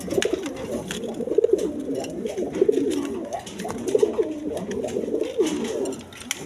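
A red Gorra pigeon coos repeatedly in a close, steady series of low, throaty calls with short gaps between them, alone and without talk.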